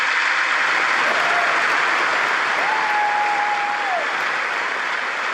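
Steady, dense applause from a large audience in the chamber of the US Congress during a speech, loud and continuous throughout with no pauses.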